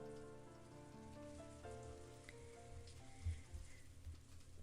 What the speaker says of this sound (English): the obnoxious pounding of the rain against the window